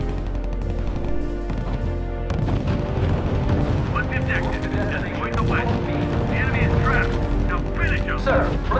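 Booming artillery and heavy gunfire from a R.U.S.E. battle roll on continuously, dense and loud throughout, with rumbling blasts layered over a constant low roar and brief radio-style voices mixed in.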